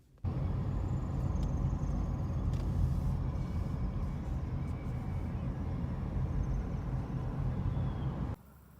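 A car drives along a road in Southern Illinois, a steady low rumble of engine and tire noise filling the cabin at an even level before cutting off abruptly near the end.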